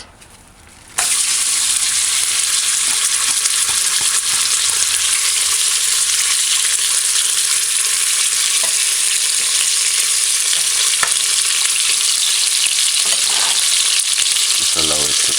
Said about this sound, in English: Just allow it to fry on one side for about a minute or two.